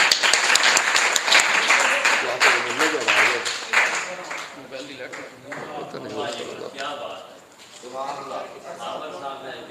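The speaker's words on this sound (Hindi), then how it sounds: "आपकी भरपूर तालियों में।" Audience applause at an Urdu mushaira poetry gathering in Jhawarian, a loud sustained clatter of many hands that gradually thins out, with voices talking over it toward the end.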